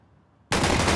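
Gunfire in a Counter-Strike style shooter on the Vertigo map, silence for half a second and then an abrupt, loud, dense burst of shots that fills the rest of the moment.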